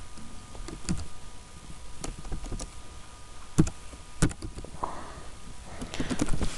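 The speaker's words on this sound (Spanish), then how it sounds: "Mi teclado me está fallando" Keys click on a computer keyboard in scattered bursts. The taps come at uneven spacing with short pauses between, close and fairly quiet.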